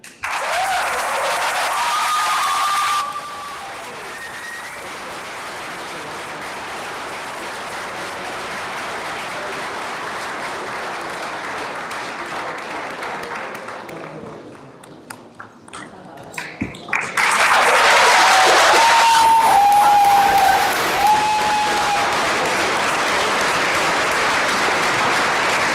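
A graduation ceremony audience claps loudly and continuously; the applause eases to a quieter stretch around the middle, nearly drops out, then swells again with renewed full clapping, with occasional whistle-like tones over it.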